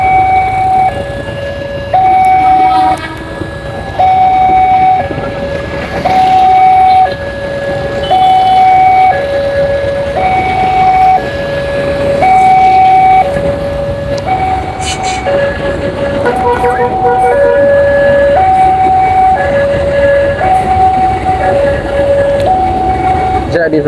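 A passenger train goes by a level crossing while a motorcyclist waits, and a repeating two-tone warning signal rings in short regular bursts over loud, rumbling traffic and train noise. A voice is heard under the din.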